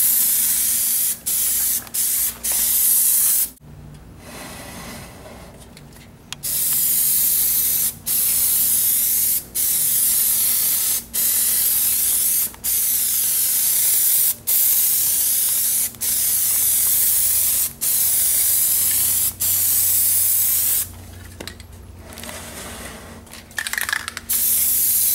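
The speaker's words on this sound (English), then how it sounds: "keep it at the same spray distance, and let's just get our first coat going." An aerosol can sprays Plasti Dip rubber coating onto a pumpkin in long, loud, close hissing bursts separated by brief pauses, with a faint steady hum underneath.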